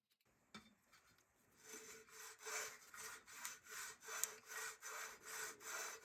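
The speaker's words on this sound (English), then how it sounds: "I'll make sure I give it a good buffing." Rhythmic back-and-forth scrubbing as a rusty metal pin on a roller from a Lionel 364 lumber loader model train accessory is buffed, steady abrasive strokes about twice per second, close and moderately loud with no talking.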